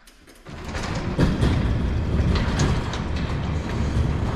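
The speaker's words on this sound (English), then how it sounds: "It has a really, really good lopey idle" An engine cranks and catches, then settles into a loud, rough, uneven idle that rumbles steadily close by.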